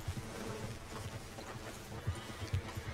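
A horse in Red Dead Redemption 2 clip-clops along with soft, irregular low hoof thuds under faint ambient game sound, with no clear neigh standing out.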